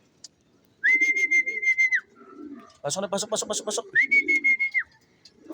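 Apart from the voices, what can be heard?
racing pigeon landing and cooing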